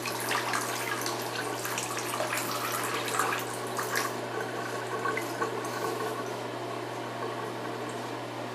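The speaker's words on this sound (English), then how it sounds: "you want to finish rinsing it until it goes through" Running water rinses a cosplay wig during washing, a steady close rush of tap water with a constant low hum underneath, louder splashing at first and then settling into an even flow.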